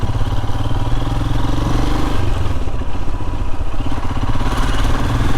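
A Royal Enfield Himalayan motorcycle is ridden on wet Cornish roads, its single-cylinder engine thumping loudly and steadily throughout with a low, rhythmic pulse and wind rush, no talk.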